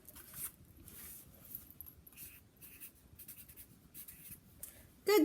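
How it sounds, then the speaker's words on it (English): A child writing the word comb by hand, a close, quiet series of scratchy strokes of a pen or pencil on paper in short bursts with pauses. "Can you write the word comb for me?"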